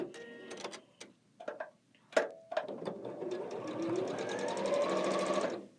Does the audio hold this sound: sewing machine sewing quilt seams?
yes